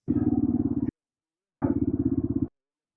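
A motorcycle ridden off-road in Algeria, heard as two short bursts of close, rhythmic engine putter separated by a gap of silence.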